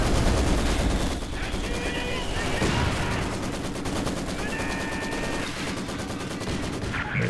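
A Maxim machine gun fires inside a building in the Company of Heroes 2 battle game, with dense, continuous gunfire and battle noise running through the whole stretch, fairly loud, mixed with other game sounds.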